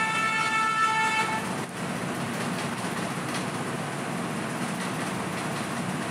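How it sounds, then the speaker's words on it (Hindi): A train horn sounds loudly for over a second, then cuts off, leaving the steady rumble of a passing train. "हॉर्न सुनाई दी,"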